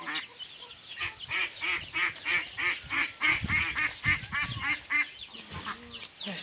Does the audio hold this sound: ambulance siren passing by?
no